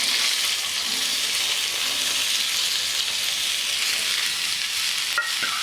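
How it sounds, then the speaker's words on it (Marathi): Cumin, asafoetida, curry leaves and carrot pieces sizzle steadily in hot oil for a Khandeshi dish, a loud, continuous close-up frying hiss with no talking. "तेल तापलं की टाकायचं आहे जिरं अगदी थोडासा हिंग थोडासा कढीपत्ता आणि गाजराचा कुडकेला केला टाकून देऊया"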